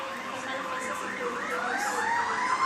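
A person's voice imitates an ambulance siren, sliding up and down in repeated wavering wails at a fairly low level, set against a faint room background.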